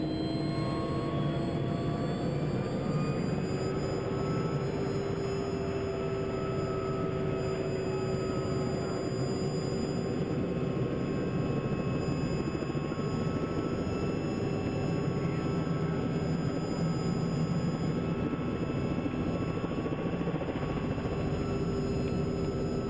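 Small airplane engine running steadily on the runway before takeoff, a continuous droning hum with a sustained tone, fairly close and even throughout, with no talk.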